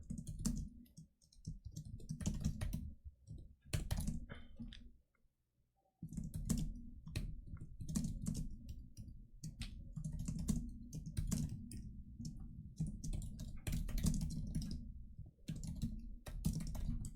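Steady computer keyboard typing, dense bursts of key clicks continuing for most of the stretch with a short pause partway through, close and fairly loud with no talking.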